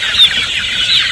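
A flock of native Filipino chickens, about two months old, clucking continuously on a farm: a dense, close chorus of overlapping calls with no talking.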